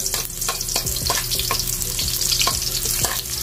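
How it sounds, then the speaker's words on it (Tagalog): Onion sizzles and fries in a hot pan as the first sauté for ginisang sayote with chicken, a dense crackling hiss broken by repeated clicks of stirring, close and lively throughout. "Then, unahin natin yung ating onion, ating panggisa."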